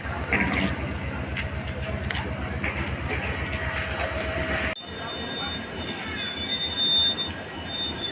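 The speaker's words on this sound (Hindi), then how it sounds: "आपको इस ट्रेन 5 मिनट डिले के साथ से राजगीर तिलैया अपने प्लेटफॉर्म नंबर 3 पर तिलैया प्रस्थान करते हुए" Special passenger train no. 03322 pulling out of platform 3 at Rajgir station toward Tilaiya, close by: a loud, steady rumble with rhythmic wheel thumps that gives way to a lighter rolling clatter and a faint high squeal.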